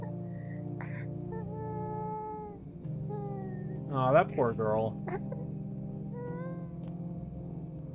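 A cat meows in the horror game No, I Am Not a Human, with a couple of short cries heard under a person's ongoing talk over steady low background hum.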